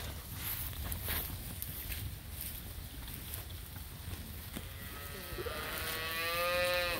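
Cattle in an open pasture, with about seven bulls following a cow in heat: steady wind and rustle, then one long, drawn-out moo swelling nearby in the last couple of seconds.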